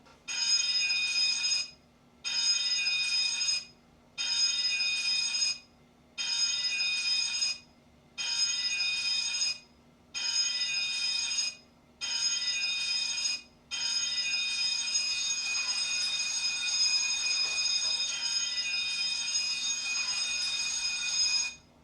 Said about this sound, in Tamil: இந்த மாதிரி அலாரம் சிக்னல் வந்ததுன்னா இதுக்கு பேர் ஜென்ரல் அலாரம்